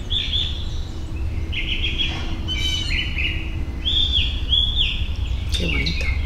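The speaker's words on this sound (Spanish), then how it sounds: "Con alegría y con los pajaritos cantando," Small birds sing in the morning with repeated clear whistled phrases and chirps over a steady low background hum, fairly close and continuous throughout.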